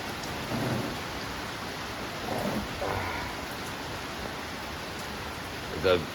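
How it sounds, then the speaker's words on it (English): Heavy rain during a Trinidad hurricane hisses steadily on a Monday morning, a broad continuous wash with a few faint rumbles and a brief louder knock near the end. "Plenty rain."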